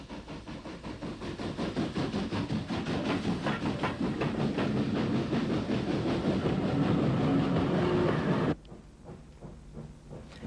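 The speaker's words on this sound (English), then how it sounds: "NCC Mogul number 97, Earl of Ulster, powers a long freight across the bridge over the River Bann and into Portadown station" NCC Mogul steam locomotive no. 97, Earl of Ulster, hauls a long freight over the River Bann bridge into Portadown, a loud rhythmic rolling rumble of wheels and exhaust that drops abruptly quieter near the end.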